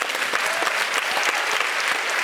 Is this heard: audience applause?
yes